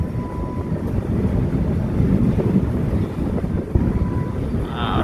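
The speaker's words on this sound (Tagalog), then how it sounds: "ang lakas ng hangin, bad weather, oh." Strong wind at sea in bad weather with rough waves, a continuous loud rushing roar buffeting the microphone, with no one speaking.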